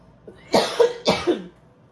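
Two harsh coughs in quick succession, close and fairly loud, with a short breath before them.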